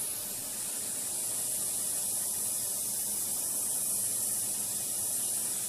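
A VEDA 180 airbrush sprays Vallejo paint in a continuous, even hiss, close and steady for the whole stretch with no pauses or talking.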